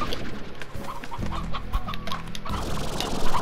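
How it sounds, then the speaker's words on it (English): Chickens, roosters and hens cluck and squawk on a ranch in the video game Slime Rancher, a steady busy chatter of fowl calls layered over music and game sounds. "let's handle all these elder roosters and elder hens."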